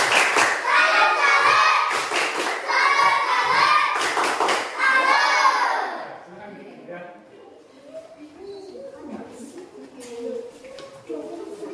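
Classroom children perform a rhythmic tepuk salut clap in unison, several sharp group clap bursts with chanting voices, followed by quieter chatter and children talking.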